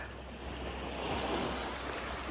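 Steady roar of surf washing ashore on a pebble beach on Santorini, with a continuous rushing hiss, slightly swelling midway; moderate level, no voices.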